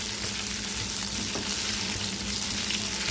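Leftover-rice muthiya, a Gujarati snack, fry in a generous amount of oil for crispness, giving a steady, dense sizzle throughout with occasional soft stirring scrapes, close and loud without any voices.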